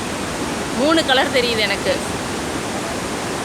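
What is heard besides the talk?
Athirapally waterfall pouring water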